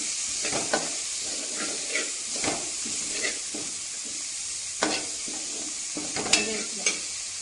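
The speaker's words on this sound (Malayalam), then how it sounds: "കുറച്ച് കറിവേപ്പില ഇട്ട് കൊടുക്കാം. ഇതിലെ വെള്ളമൊക്കെ നന്നായി വറ്റുന്നതുവരെ ഒന്ന് വഴറ്റേണ്ടതുണ്ട്" Curry leaves sauté in a pan for lime pickle as the water cooks off, producing a constant hissing sizzle broken by several scraping stirs of a spoon.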